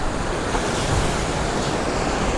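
Sea waves crash against shoreline rocks in a continuous loud wash of surf, mixed with wind buffeting the microphone, without any voices.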